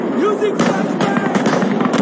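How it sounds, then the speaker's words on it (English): A flashbang grenade detonates in a military shooter video game, a sharp loud burst with crackling noise that follows a shouted voice. "Using flashbang!"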